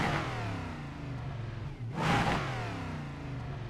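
A race car engine in iRacing drones steadily, then swells in a short rev and whoosh midway before settling back to a constant hum, with a brief spoken syllable.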